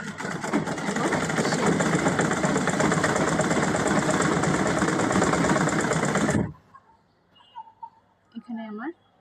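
Sewing machine stitching rubber, running steadily and loudly for about six seconds before stopping, followed by quiet handling noises and brief voice sounds.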